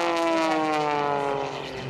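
An MXS aerobatic propeller plane rolls during an air show display, its engine a loud droning whine that shifts downward in pitch as it passes.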